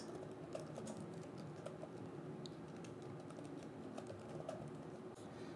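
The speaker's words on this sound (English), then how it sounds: "Password is typed in." Faint, quick clicks of someone typing a password on a computer keyboard, soft and irregular over a low room hum, with occasional bird cooing in the background.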